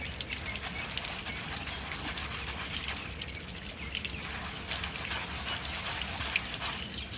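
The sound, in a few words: water rinsing mud off an RC truck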